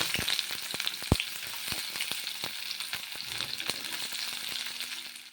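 Onion frying in hot refined oil, a steady close sizzle dotted with frequent sharp pops and crackles, moderately quiet, with no voices.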